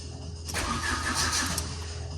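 Fiat Panda 4x4 fitted with a starter motor taken from a donor Punto: a brief starter crank, then the engine catches and settles into a steady, fairly loud idle close by.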